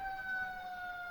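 A steady two-tone siren wail from an approaching fire engine and ambulance rolling through a small-town peach festival parade, held loud and continuous over low street rumble for the whole moment.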